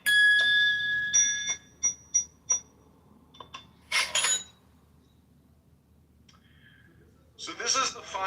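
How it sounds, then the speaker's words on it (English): A bell struck several times in succession, bright ringing tones that fade quickly, followed by brief noisy clatter and more ringing near the end. "you wouldn't be hitting a bell over and over again"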